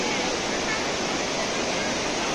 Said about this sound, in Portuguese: É um complexo de cachoeiras.